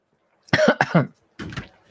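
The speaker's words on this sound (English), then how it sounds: "Oh, bubbles. Makes you cough." A few short, sharp coughs from drinking fizzy water come in quick succession, followed after a brief pause by a softer throat-clearing cough.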